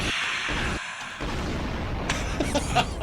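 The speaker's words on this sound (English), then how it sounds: "You always got to end it with an explosion." A sound-effect explosion closes out a talk show segment: a broad noisy burst and rumble sweeping across the range, followed by a few crackling pops toward the end, fairly loud and up close.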